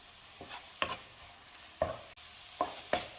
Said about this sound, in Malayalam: അതുവരെ ഒന്ന് വഴറ്റിയെടുക്കണം